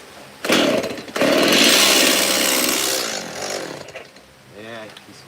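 An old chainsaw with a dirty carburetor fires up loudly, runs raggedly for a couple of seconds, then sputters and dies away, and someone talks as it fades.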